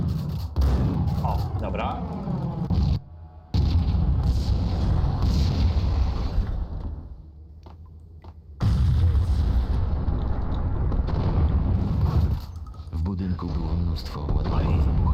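Gunfire and a gas cylinder explosion in Max Payne 1, loud booming bursts with brief silent gaps, mixed under game music and someone speaking Polish.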